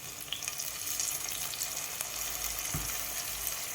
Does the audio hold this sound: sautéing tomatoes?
yes